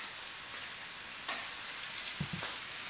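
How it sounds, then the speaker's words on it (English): Chicken pieces fry in a pan with tomatoes and onions, giving a steady, close, hissing sizzle with a few soft knocks and stirring clatters. "I'll let it fry on one side, then I'll flip the other side of it, so I can fry the other side."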